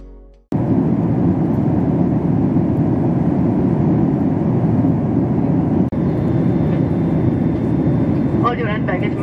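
A Boeing 737 MAX airliner comes in to land, heard from inside the cabin as a loud, steady roar that runs almost unbroken for several seconds, with a brief dip midway and faint chimes near the end.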